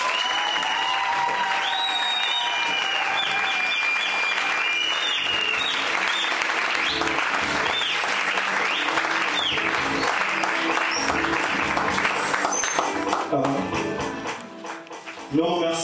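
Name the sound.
congregation applauding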